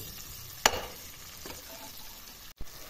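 Vegetables and spices fry in a pan while being stirred, with a sharp scrape near the start over a low, steady sizzle.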